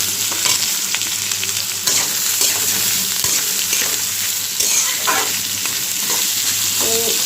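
Onion and green chillies frying in oil in a kadai for a prawn bhuna, a loud, close, continuous sizzle with scattered crackles and a few light utensil clicks over several seconds.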